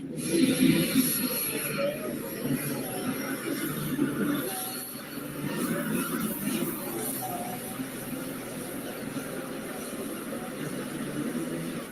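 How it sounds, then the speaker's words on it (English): A pulling tractor's Hypermax rear end whines at a tractor pull, a steady high whine over loud, continuous engine roar and crowd noise, with a voice faintly audible. "You can hear the Hypermax rear end in that tractor."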